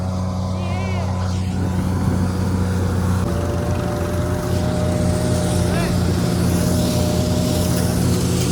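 A tractor engine drones loudly and steadily in a farm field during the chickpea harvest, a continuous close rumbling hum with people talking over it.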